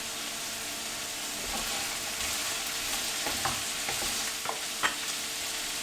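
Ginger and garlic sauté in a pan with a steady, soft sizzle, while a spoon stirs and scrapes in a few light knocks near the end.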